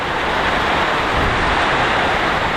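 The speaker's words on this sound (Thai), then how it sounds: "ฝนลงแล้ว หลังจากลมมากำลังลง" Rain pours down at a farmhouse by the rice fields in Khon Kaen after gusty wind, a loud, dense, unbroken hiss filling the whole stretch evenly with no speech.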